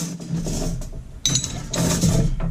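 A nut is threaded back onto an in-line flaring tool, giving small metallic clicks and ratcheting scrapes in short, uneven bursts close by.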